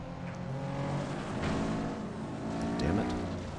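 Racing car engines in the video game FlatOut on Xbox drone and whine steadily, with pitch sweeps as cars rev and shift, a continuous loud motor roar throughout.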